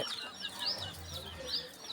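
Chickens, a rooster and a hen, cluck and call in a steady close stream of bird sounds, with soft rustling and possible wing flaps underneath and no talking.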